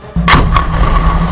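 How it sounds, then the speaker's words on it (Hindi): An explosion from night-time fighting in Khan Younis, a sudden loud boom followed by a second crack and a low, rumbling sustained echo. "रात के अंधेरे में ऐसे धमाके हुए मानो पटाखे फूट रहे हों"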